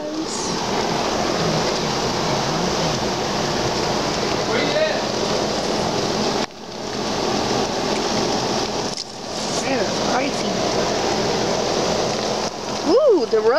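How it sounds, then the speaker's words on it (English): Sleet and rain from a winter storm in Charleston, SC, falling steadily as a dense, loud hiss of pellets and drops with a few brief breaks, and faint voices underneath. "Okay, it's snowing and sleeting. It's a mix going on now."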